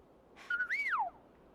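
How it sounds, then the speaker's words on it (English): A single bright whistle from the video game Grow: Song of the Evertree, holding a steady tone before sweeping up and then gliding down, clear and close with no talk. "Whistle, whistle."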